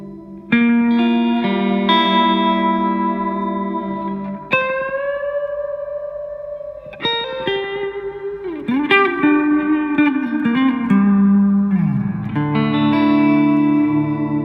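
A Les Paul electric guitar runs through a GURUS Echosex 2° T7E echo with heavy feedback, repeats stacking and sustaining into swelling feedback-like tones, with pitch bends and long decaying trails.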